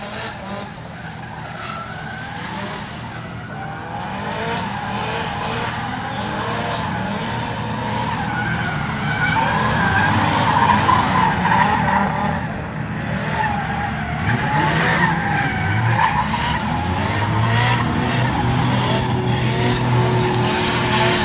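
A car engine roars continuously while tires skid and squeal through long sideways slides, loud and close, with the revs rising and falling throughout.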